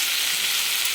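Cabbage and peas sauté gently in a pan, giving a close, steady frying hiss that holds evenly through the brief moment.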